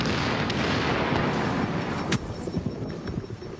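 Sniper fire in The Division, a sharp gunshot crack amid ongoing booming gunfire and explosions, moderately loud against a steady rumbling battle background.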